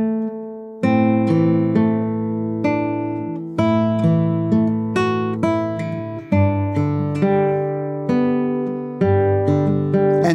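Guitar plays Greensleeves in a three-count fingerpicking pattern, ringing chords with picked notes between them, clear and close with sustained decay and no talking.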